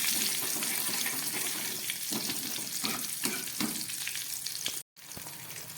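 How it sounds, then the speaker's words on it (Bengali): Crushed garlic cloves and green chillies fry in oil with a continuous, moderately loud sizzle and crackle, briefly cut off near the end before resuming. "ফোড়নটা ভাজা হয়ে গেছে"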